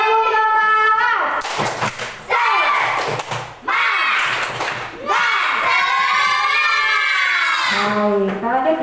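Schoolchildren chant and clap a rhythmic group cheer in a classroom, loud shouted voices in unison punctuated by sharp claps and thumps at close range.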